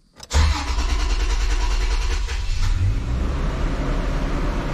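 A 2006 Toyota Tundra with a 4.0 V6 engine cranks briefly, catches and settles into a loud, steady idle that runs slightly high, heard close up with no talking.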